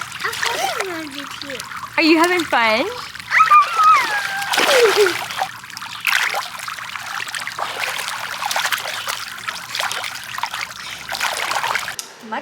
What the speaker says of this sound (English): Hey, are you playing in the water?